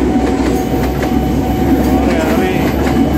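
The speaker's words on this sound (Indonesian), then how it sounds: "Ada kereta lewat." A train rolls past near Jakarta International Stadium in Sunter, a loud, continuous rumble with steady rail clatter and a faint tonal whine, close by throughout.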